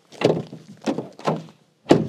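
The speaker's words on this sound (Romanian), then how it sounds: "Așa se închide o mașină făcută în China aia." Door of a Chinese-made car being shut, giving a series of four dull, close thunks at uneven intervals with quiet between them.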